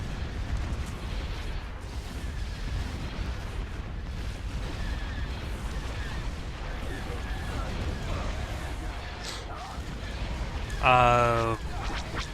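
Cannon fire and explosions in a Star Wars space battle strategy game roll on as continuous booming rumble under game radio voices, ending in a sharp louder burst.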